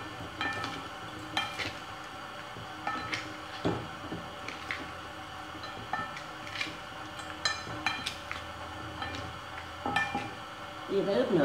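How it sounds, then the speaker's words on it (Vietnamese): Meat being stirred by hand in a bowl to work in salt and seasoning, soft irregular wet clinks and scrapes repeating for several seconds, close but quiet, without speech. "Bây giờ ta bắt đầu đảo thịt cho ta ướp nửa tiếng."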